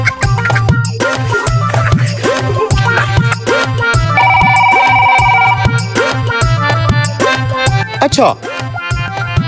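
A loud melodic phone ringtone plays steadily through the whole stretch, signalling an incoming call from the cement supplier.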